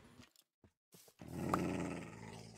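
A wolf in the Minecraft video game growls at a skeleton, a low rumbling snarl after a few faint clicks, close and sustained for over a second.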